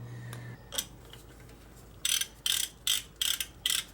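A socket wrench ratchets on a Dana 44 axle during a 4x4 truck solid axle swap, giving five sharp clicking bursts in quick succession, close and clear, after a few faint taps.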